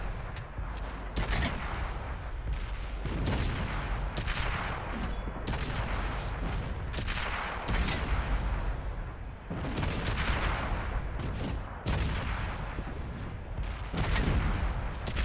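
Artillery fire from a US Sexton self-propelled gun in the console tank battle game World of Tanks: repeated heavy booming shots and blasts crack out every second or two over a constant dense roar of battle noise.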